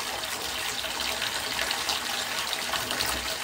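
Water from an old house's loft cold water tank gushes steadily out through bath mixer taps into the tub, a loud continuous rush with no pauses.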